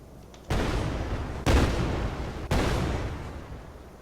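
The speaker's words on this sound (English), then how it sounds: "They explode if they get too far. They'll explode if they hit stuff." Cannonballs fired from a boat in a modded video game burst in three loud, sharp booms about a second apart, each followed by a rumbling decay, with no voices over them.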